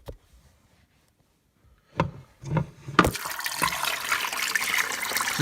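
Water rinsing spider mites off plants: after near-silence and a couple of thumps, a steady, close rush of running water splashes continuously over the leaves until the end, with no talking.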